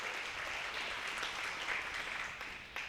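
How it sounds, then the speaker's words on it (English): A comedy show audience in Buffalo Center applauds with steady, dense clapping that fills the room evenly throughout and stays moderately distant. "Can I get a round of applause for that?"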